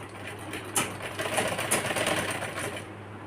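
A sewing machine runs a foot-presser seam on a small child's shirt, giving a continuous fast mechanical whir with clicking stitches, close and steady for the whole stretch.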